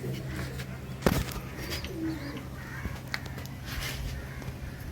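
Pigeons coo softly nearby against a quiet background hum, with a sharp knock early on and a few scattered bird calls.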